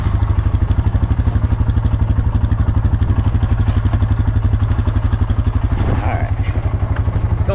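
A Honda 300 engine running while being ridden, a steady rapid low putter that holds evenly throughout with a brief rise near the end.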